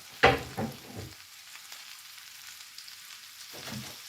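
Cabbage sautéing in a 10-inch cast iron pan, giving a soft, steady sizzle at a moderate level, with a few louder stirring scrapes at the start and again near the end.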